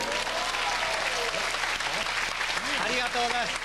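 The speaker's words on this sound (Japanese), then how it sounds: "まさかこんなに拍手をいただけると思ってみませんでした" Studio audience applause on a 1996 Japanese TV comedy show, a sustained clatter of clapping with a voice speaking over it throughout.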